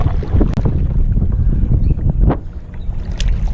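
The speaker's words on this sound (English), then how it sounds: "There's a little bit of wind." Loud, steady wind buffeting the microphone while paddling a Crescent Ultralite kayak on open water, a continuous low rumble with faint splashes and knocks, no speech.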